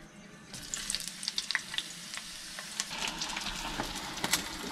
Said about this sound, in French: On va mettre un petit filet d'huile. On commence par les oignons.